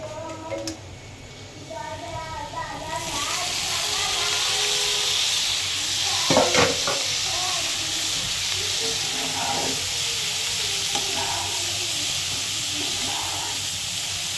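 Onion and garlic browned in butter in a frying pan as vegetables go in, a loud steady hiss of frying taking over after a quieter start, with brief scrapes and knocks of the pan partway through.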